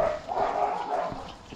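A dog gives a short, whiny bark or yelp, close by, with a brief whimpering edge and no talking.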